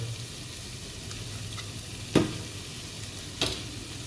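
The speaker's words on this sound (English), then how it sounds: "Now I'm just going to saute this up and then put it off to the side." Food sautéing in a pan while prawns and rice are prepared, a steady close sizzle with a couple of sharp clinks from utensils striking the pan.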